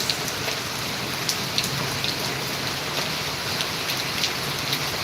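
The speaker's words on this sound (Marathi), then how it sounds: "पाऊस काय थांबण्यातला दिसत नाही" Heavy rain pours down in a dense, unbroken hiss and patter on surfaces nearby, steady and loud throughout with occasional sharper drips standing out.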